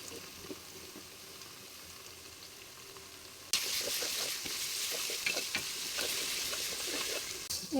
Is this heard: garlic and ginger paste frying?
yes